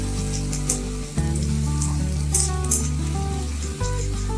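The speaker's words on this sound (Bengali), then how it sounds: "আদা বাটা দিয়ে মশলাটাকে ভালো করে কষিয়ে নিচ্ছি" Masala cooked with ginger and chilli paste sizzles softly in a pan beneath a strong steady low hum that cuts out and returns, with light crackles and a few brief higher clinks.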